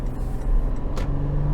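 A 2023 Toyota 4Runner 40th Anniversary pulling away under throttle, its engine note a close, steady low drone that firms up as it accelerates, with a brief whooshing burst near the end.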